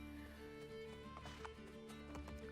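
Horse hooves clip-clop in Assassin's Creed: Brotherhood, a steady run of soft thuds over a busy game backdrop of music and ambience, with an occasional whinny-like tone and no talk.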